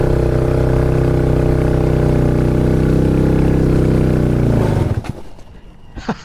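A motorcycle engine on a steep, rocky gravel road runs loud and steady, then sputters and cuts out, leaving brief clanks and quiet.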